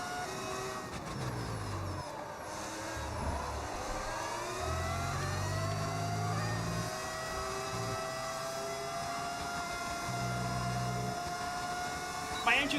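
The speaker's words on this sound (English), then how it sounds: "My engine sounds like that because I use a mod that changes the sound" A modded car engine in the F1 26 racing game whines at high pitch with rising and falling gear-change sweeps, steady and close, under low background tones.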